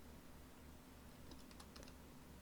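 Keys clatter on a computer keyboard as text is typed, a faint cluster of quick clicks in the second half over a low steady hum.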